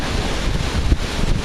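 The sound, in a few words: wind blowing into the microphone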